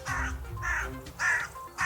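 A crow caws three times in a children's radio programme, each harsh call a short separate burst spaced about half a second apart, close and clear.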